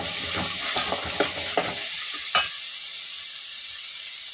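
Tempering spices with chana dal and urad dal crackle and sizzle in hot oil, a steady bright hiss with sharp pops and stirring scrapes early on, then settling into an even fry.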